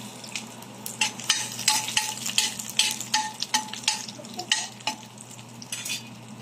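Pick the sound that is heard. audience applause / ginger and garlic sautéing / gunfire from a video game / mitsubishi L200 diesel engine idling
ginger and garlic sautéing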